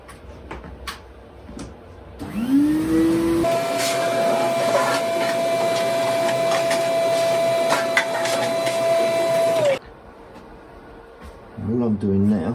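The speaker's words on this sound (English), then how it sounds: "I'm going to hoover out some of this dust first of all." A vacuum cleaner hoovers dust out of a Record Power BS300E bandsaw, starting with a rising whine and then running as a loud, steady roar with a high tone for about seven seconds before cutting off, with quieter workshop sounds before and after.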